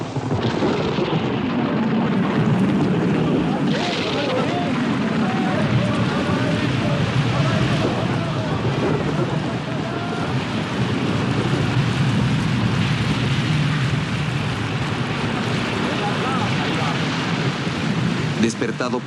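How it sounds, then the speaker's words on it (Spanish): A fierce storm breaking over the Sea of Galilee while a boat crosses: a dense, steady roar of wind, water and rain with deep rumbles, loud and continuous throughout. "se desató una tormenta"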